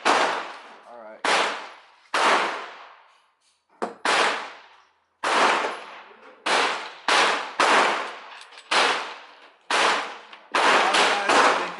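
Shots from a gun fitted with a hollow sight, about a dozen sharp loud bangs fired one at a time at irregular intervals. Each crack decays quickly, with a few shots coming close together near the end.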